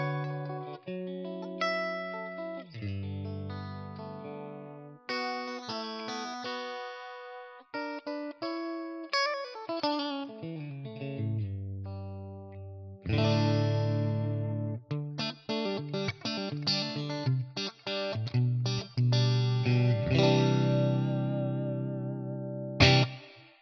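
Electric guitar with a clean tone through a ToneX ONE amp model, no reverb, plays a continuous melodic passage of single notes and chords, close and clear, with no voices.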